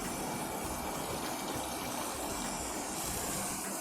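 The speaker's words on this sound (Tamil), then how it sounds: "இந்த ஸ்டேஜில் தண்ணி விடலாம்." Water poured into a kitchen grinder over freshly ground powder while preparing a South Indian lunch, a soft continuous gushing and churning, faint and steady throughout with no voices.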